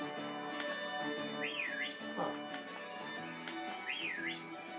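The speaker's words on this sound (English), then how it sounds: "apparently if you press down the L stick, you can, make a whistle" A character's whistle in the video game Pokemon Shield, triggered by pressing down the L stick: a short, wavering, birdlike whistle phrase heard twice over background game music.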